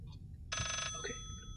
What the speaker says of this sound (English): Another phone!